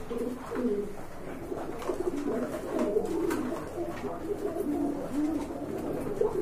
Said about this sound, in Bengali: ছটফটা কবুতর